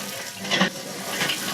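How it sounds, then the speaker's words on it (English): Wagyu brisket burgers basted with duck fat sizzle on a grill, a steady close crackle and hiss with a couple of brief louder spits. "they're just sizzling up perfect here"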